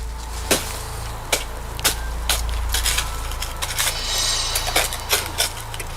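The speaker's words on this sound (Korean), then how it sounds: "마당에서 삽질을 막 이렇게 하고 계시는 거예요" A shovel digs into a yard in rhythmic strokes, each a sharp scraping chop repeating about once a second over a low steady hum of the background.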